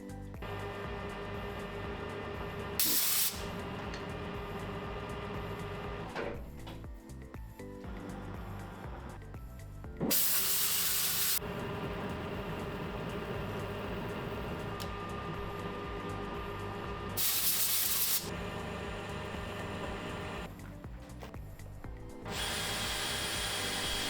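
A lathe cuts a thread on a barbell sleeve, a steady machining whir running throughout with several brief louder bursts of noise, close and alone with no talk.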